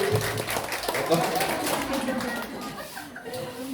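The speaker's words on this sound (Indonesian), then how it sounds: "Tepuk tangan untuk Kak Ari." A parents' audience at a school parenting seminar for first-grade guardians claps for a few seconds, a moderately loud, steady patter of hand claps with some chatter and room noise mixed in.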